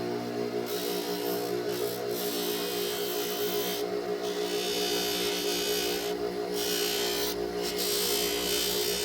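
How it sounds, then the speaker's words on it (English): A buffing wheel charged with Zam compound polishes pyrite in a turquoise host rock, giving a steady, loud rasping hiss over a constant motor hum, with the grinding briefly easing several times as the stone lifts off. "So we'll polish the pyrite first, and then the turquoise and the other host rock"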